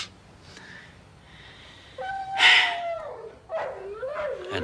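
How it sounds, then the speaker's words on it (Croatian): A dog left beside a garden fence lets out a few rising, whining howls and yelps, fairly close and moderately loud, over a quiet background. "Ili taj njihov pas ne da spavat."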